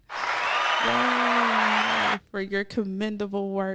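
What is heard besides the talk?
round of applause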